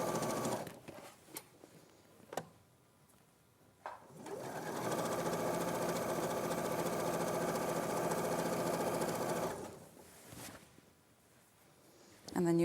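A sewing machine stitching fabric down a trouser leg runs in a steady, loud mechanical whir for several seconds, with short starts and stops before and after and a voice talking briefly in between.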